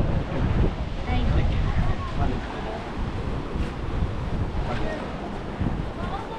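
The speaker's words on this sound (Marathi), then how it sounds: "काय लाटा बोंबलून राहिल्या" Sea waves breaking on a Goa beach make a continuous loud roar and wash, with heavy wind buffeting the microphone throughout. No speech stands out.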